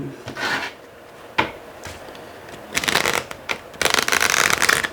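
Tarot cards handled during a French card reading, shuffled and laid down in several bursts of crisp, close riffling and sliding, with a soft tap between them and quieter gaps.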